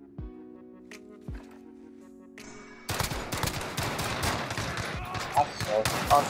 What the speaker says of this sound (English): Sniper rifle that shoots like a pistol.